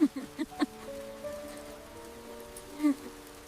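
Rain falls in a soft, steady patter beneath sustained tonal sounds, with a few sharper taps and drops standing out near the start and end.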